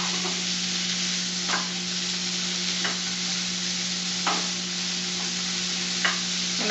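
Asparagus and peas sizzle steadily in a hot pan, a constant frying hiss broken every second or so by a soft scrape of stirring, close and alone without any talk.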